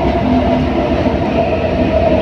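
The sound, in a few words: local passenger train running, Bandel local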